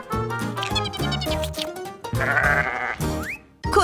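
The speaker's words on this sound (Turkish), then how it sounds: "koyunlar be der." Sheep bleat loudly and close by, several wavering calls in quick succession with brief gaps between them.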